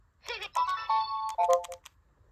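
A Furby toy plays an electronic cell phone ringtone, a bright synthetic melody of sustained tones and quick blips lasting about a second and a half, loud and close, with no talking.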